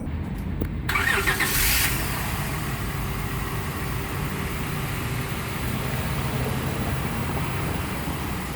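2004 Honda Pilot engine cranking briefly and catching after front strut replacement, then settling into a steady, close idle hum.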